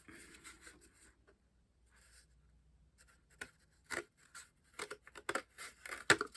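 Scissors cut through craft material for a homemade bead storage box: a soft scrape at first, then a run of quiet, crisp, close snips in quick succession, with no talking.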